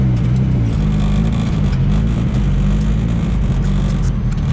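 A boosted drift car's engine, running down a cylinder, rumbles loud and close with a steady, rough low drone throughout.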